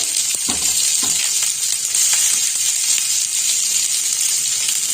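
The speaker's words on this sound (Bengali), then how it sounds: "এবার আমি এর মধ্যে দিয়ে দেবো এই সবজিগুলো। প্রথমে দেবো পেঁয়াজটা।" Air-fried onion and cauliflower tumble into a hot pan, giving a loud, even sizzle with a few soft stirring knocks near the start.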